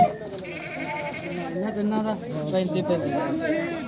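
Goats bleat repeatedly at a livestock market in Bargari, Punjab, with wavering calls from several animals close and farther off, under and between people talking nearby.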